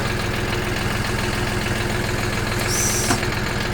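Motor cultivator running between strawberry rows, a loud steady chugging small engine close by, with a brief sharp clank near the end and no talk.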